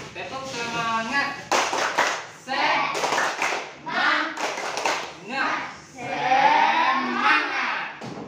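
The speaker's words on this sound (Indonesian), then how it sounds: "Tepuk semangat." A classroom of children doing the tepuk semangat spirit clap, bursts of sharp rhythmic hand claps alternating with a teacher's voice and pupils chanting, close and lively.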